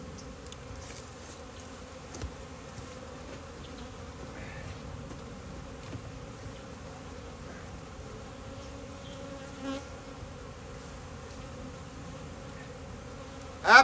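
Honey bees buzz around hives in an apiary during a February inspection, a soft continuous hum of many insects with occasional closer passes and one brief louder burst near the end.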